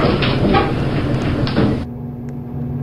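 Otis elevator doors sliding shut, a steady broadband rumble with a couple of soft knocks that cuts off abruptly near the end, leaving a quiet hum.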